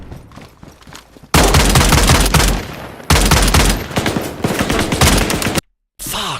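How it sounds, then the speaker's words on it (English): Loud, close bursts of rapid automatic gunfire from the zombie-survival shooter DayZ, two long dense volleys with a brief pause between, then abrupt silence before a short final burst; no talking. "he fired once, I was blind firing, and I gave him a target"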